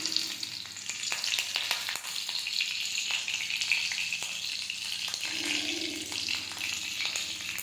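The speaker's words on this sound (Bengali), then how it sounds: "লঙ্কা আমার চড়বড় চড়বড় চড়বড় চড়বড় করে ফুটছে।" Green chilies crackle in hot oil while Maggi noodles are being cooked: a close, dense, continuous sizzle peppered with sharp pops and spits from start to finish, with no talking.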